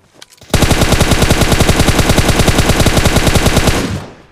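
Sustained rapid automatic gunfire from the PUBG Mobile video game, a loud continuous burst of evenly spaced shots lasting about three seconds while aiming at a distant enemy, then cutting off.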